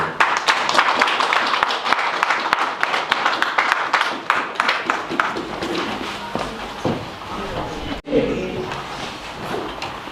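A church congregation at a Saturday service in Pokhara claps to welcome Pastor James, with brisk, dense clapping that thins out after several seconds into quieter scattered sounds.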